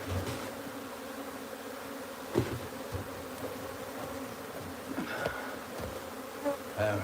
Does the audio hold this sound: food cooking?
no